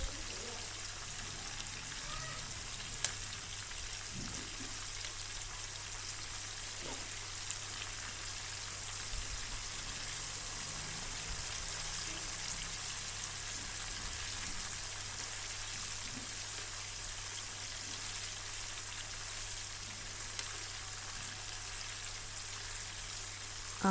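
Chicken legs frying in a hot pan, a soft, steady crackle and sizzle like light rain running throughout, with a few sharper pops and a low background hum.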